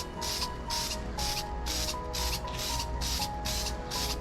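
Plasti-Dip spray paint can hissing out a light dust coat onto car wheels in a run of short, even bursts with brief gaps between them, close and fairly soft.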